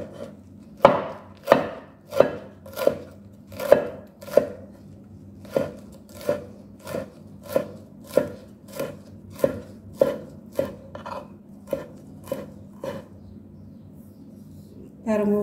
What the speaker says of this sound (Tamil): முடிஞ்ச அளவு நல்ல சின்னதாக வெட்டி எடுத்துருக்கிறேன்